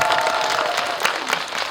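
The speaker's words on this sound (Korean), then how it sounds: "박수 한번 좀 부탁드리겠습니다" Audience at a Korean film screening Q&A applauding, a brief, dense, steady patter of many hands clapping, fairly close and loud, with faint crowd murmur beneath.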